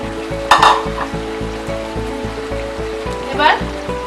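A spoon scrapes and turns Bengali chicken kosha with fried potatoes in a sizzling pan. The strokes come in a steady repeating rhythm over continuous frying crackle, with a couple of louder clanks.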